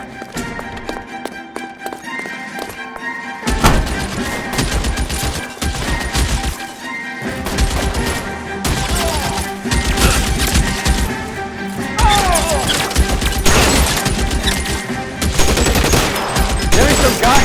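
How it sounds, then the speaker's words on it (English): Gunfire in the video game L.A. Noire shootout, dense rapid bursts of shots and crashes layered over continuous loud game music and effects, sustained throughout. "Open fire!"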